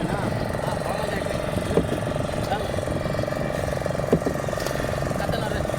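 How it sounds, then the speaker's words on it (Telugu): Engine-powered fishing rafts off the Srikakulam coast run with a steady low droning hum, moderately distant and continuous beneath someone talking over it. "అవి ఇంజిన్ తెప్పలు మేమైతే నార్మల్ తెప్ప మీద వచ్చాము"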